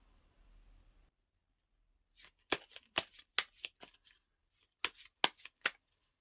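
Tarot cards being shuffled up close: quiet crisp flicks and snaps in two short bursts, each a quick series of riffling taps, after a brief faint murmur at the start.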